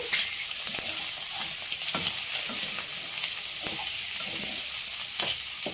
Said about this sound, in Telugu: మెల్లగా సిమ్లో పెట్టి మళ్ళీ వేయించుకుందాం